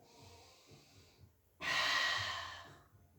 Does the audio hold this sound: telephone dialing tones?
no